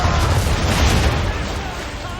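A ship's cannon fires and old powder barrels blow up in an Assassin's Creed III naval battle, a loud booming blast with a rumbling decay that dominates the short moment.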